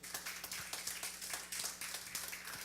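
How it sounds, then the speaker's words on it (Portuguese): Congregation at a Pentecostal Baptist church service in Hamamatsu clapping steadily, a dense, moderately faint patter of many hands sustained throughout with no talking over it. "desocupe a tua mão e dê a melhor salva de palmas para Jesus"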